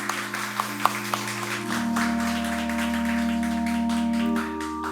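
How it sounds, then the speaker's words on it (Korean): Congratulatory applause from a church congregation at a pastor installation and ordination service, a soft, sustained patter of many hands over steady held keyboard or organ tones, with a few sharper claps at the start. "우리 다시 한번 축하의 박수 보내주시기 바랍니다."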